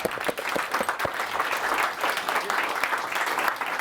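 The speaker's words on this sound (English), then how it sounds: "give a warm round of applause" An audience at a Startup Grind Dublin event bursts into a warm round of dense, steady applause, many hands clapping loudly together across the room throughout.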